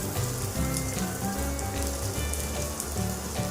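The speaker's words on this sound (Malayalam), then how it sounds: "ഞാനൊരു സവാള വഴറ്റിയെടുക്കുകയാണ്" Onion sautéing in butter in a pan for a keto beef steak sauce, a steady close sizzle with soft crackle running throughout, with low background music underneath and no talking.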